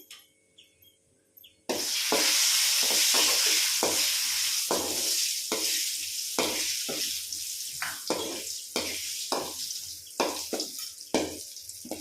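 Nuts, including almonds, fry in a pan for ash gourd halwa. After a quiet start, a loud sizzle begins and keeps going, broken by repeated clinks and scrapes of a spoon stirring against the pan.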